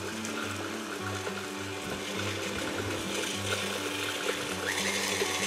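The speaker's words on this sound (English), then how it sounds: "I'm going to cover the mixer with a clean tea towel before I switch it on" An electric mixer covered with a tea towel churns chocolate fudge cake batter in a bowl, giving a steady, close whirring hum with an even, pulsing motor tone that runs for the whole stretch.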